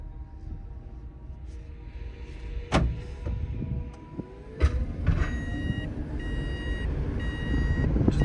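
Artificial warning tones from a Dongfeng EX1 Pro electric car sound as repeated high electronic beeps in the second half, over a steady mechanical hum with a couple of sharp clunks earlier on.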